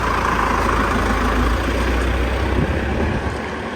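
A vehicle passes along a narrow street in an old Italian town, a loud, steady low engine rumble and road noise close by that holds throughout and eases slightly at the end.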